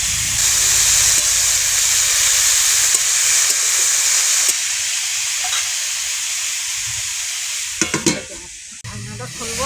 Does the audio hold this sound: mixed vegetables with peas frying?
yes